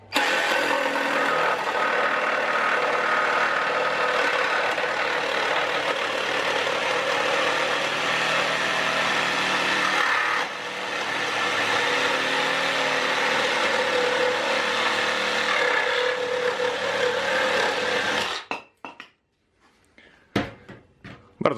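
A DEDRA DED 7061 reciprocating saw with a blade for nail-embedded wood cuts through nailed timber, giving a loud, close, continuous buzzing rasp. It dips briefly once midway, then stops, leaving a few sharp knocks and clatters.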